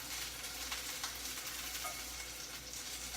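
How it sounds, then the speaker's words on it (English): Walnuts frying in a hot pan for a shojin ryori dish, a steady bright sizzle with faint clicks of stirring, close and even throughout. "And this is frying up really, really quickly, so I'm just going to go ahead and it's already browning."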